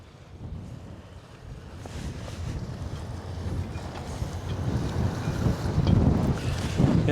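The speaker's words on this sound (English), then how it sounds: "we probably got about sustained 20-mile-an-hour winds here" Strong sustained wind of around 20 miles per hour gusting at an icy marina, a steady roar of microphone buffeting that swells louder toward the end, with no talking.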